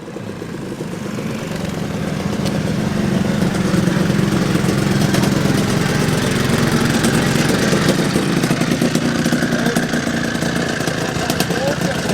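A classic two-stroke vehicle engine idles steadily and close by at a New Year's Day classic car gathering outside a pub, a continuous buzzing rumble with voices faintly mixed in.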